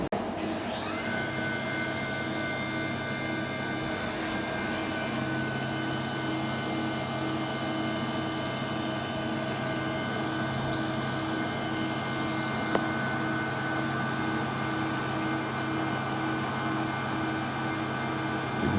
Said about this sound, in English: This next tool just comes along and just touches the top of the teeth and gets rid of all them.